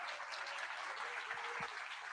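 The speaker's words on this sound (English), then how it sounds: "So let's give Frank a round of applause." Applause from a live audience as a speaker is introduced at a discussion event, fairly faint and even, with a couple of brief low thumps near the end.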